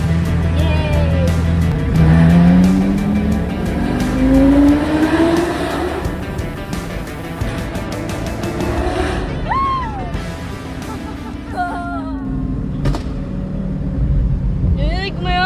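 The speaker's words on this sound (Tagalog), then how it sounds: "Narinig mo yun? Backfire." Lamborghini with a new exhaust revs up, its engine note rising in loud sweeping pulls followed by sharp pops and crackles, with people talking over and between the bursts.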